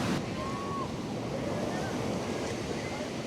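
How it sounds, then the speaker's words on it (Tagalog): Continuous surf and strong crashing ocean waves at a beach in La Union, Philippines fill the scene, mixed with wind buffeting the microphone, with faint voices in the background. "Grabe, ang lakas ng alon pa rin"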